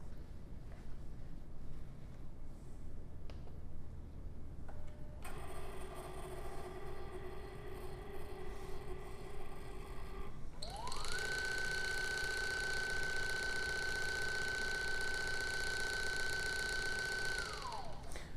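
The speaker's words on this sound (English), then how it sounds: "Then it's going to go back and start filling the bags one at a time." A Signata CT-5 automated system fills bags one at a time, giving a faint mechanical whir that steps up into a steady motor hum, then a rising tone that holds before falling away.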